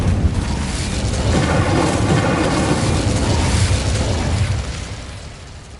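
An Incendio fire spell cast in Hogwarts Legacy, a loud roaring burst of flame that rumbles steadily for several seconds before tapering slightly at the end.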